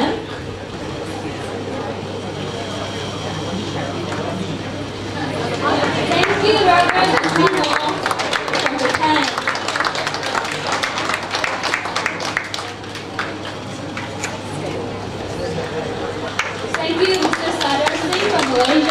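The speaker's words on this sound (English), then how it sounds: "Please give a round of applause to all of the panelists and moderators" Audience applause for the panelists and moderators at a sustainability panel session, a broad wash of clapping that swells after a few seconds and continues steadily, with voices mixed in.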